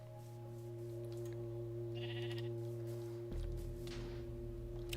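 A short, thin bleat from a video game sheep rises briefly over a steady hum of game music and ambient tones.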